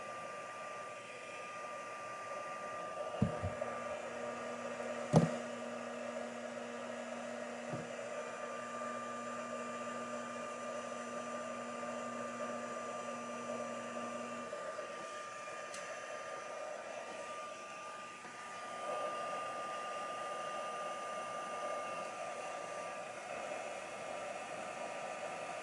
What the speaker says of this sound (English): there's my gun, my heat tool,